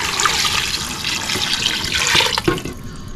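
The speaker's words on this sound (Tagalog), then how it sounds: "Tapos lalagyan na natin ng tubig." Water poured into a cooking pot of beef skin and fat with lemongrass, beef cubes and pepper, a steady splashing gush that runs loud for about two and a half seconds before tapering off.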